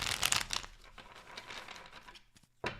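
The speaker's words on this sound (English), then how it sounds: "2 more shuffles." Tarot cards are shuffled close by with crisp papery riffles and rustles. A dense burst at the start fades into softer scattered flicks, and a sharp snap of cards closes the clip.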